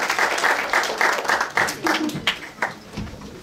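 Audience clapping for children at a community event on refugees and immigrants, a series of applause bursts that thin out and fade, with a voice briefly heard between them.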